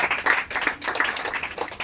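A room of students claps for a classmate who placed third on a weekly test, brisk uneven applause in bursts that swells and eases, fairly close, with no talking over it.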